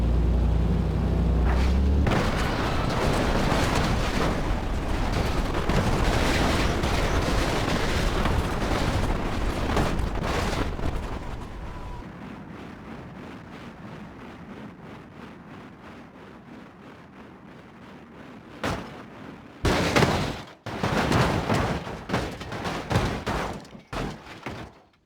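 Heavy explosions from an American bomber in the driving game BeamNG Drive, with deep booming blasts and rumble that fade, then a fresh burst of loud thuds and explosions near the end.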